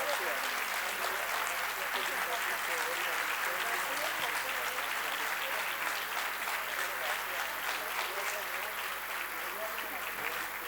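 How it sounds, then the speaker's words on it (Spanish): An audience at a talk on childhood, adolescence and gender violence gives a strong, sustained round of applause, dense and even throughout with a faint low hum underneath. "un fuerte aplauso para cada uno"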